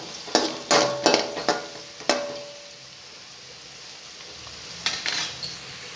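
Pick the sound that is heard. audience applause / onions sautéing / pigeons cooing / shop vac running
onions sautéing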